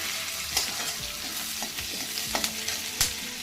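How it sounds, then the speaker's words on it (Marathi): Chopped coconut and onion roasting together in a pan for a village-style chicken masala, with a steady close sizzle and scattered scraping stirs of a spoon against the pan. "मी अर्धी वाटी खोबरं घेतलंय चिरून ते टाकून घ्यायचंय आणि खोबरं पण त्याच्याबरोबर छान भाजून घ्यायचंय"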